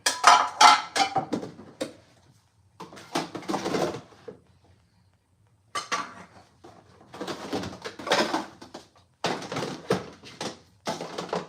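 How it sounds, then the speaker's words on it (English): Metal pots and pans clatter and clank as they are shoved and moved around, in loud bursts of rattling separated by brief pauses. "all these pots and pans gotta get the hell out of my way"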